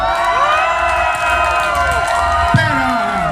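A large crowd at a barber battle in Kuala Lumpur cheers and shouts continuously, with whoops and children's voices rising over a dense, steady roar.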